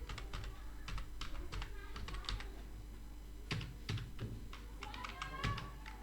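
Computer keyboard typing as a medicine name is entered into Tally accounting software, quick clusters of crisp close key taps with short pauses, over a low steady hum.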